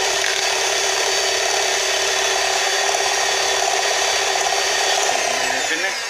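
An electric whisk whirs as it mixes dough for white and dark chocolate chip oat and raisin cookies, giving a steady, close, high motor whine that holds evenly throughout with no talking.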